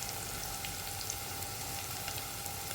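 Chopped tomatoes sizzle and fry with onions in a pan for a mixed vegetable curry, a steady close hiss with fine crackles and no talking.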